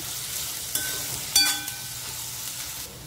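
Paneer chilli frying on a high flame, a soft continuous sizzle with a couple of sharp metallic clinks as a utensil stirs and scrapes the pan.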